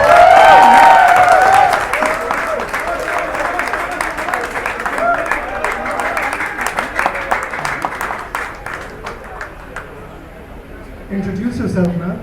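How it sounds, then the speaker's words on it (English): A stand-up comedy crowd in a Muscat food court applauds a man called up on stage, a dense loud patter of claps with some cheering that slowly thins out, while a voice speaks over it. "give a round of applause to this guy"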